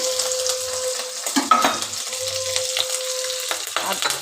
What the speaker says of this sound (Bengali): এবার আলুর সাথে আদাটাকে একটু নেড়ে নিলাম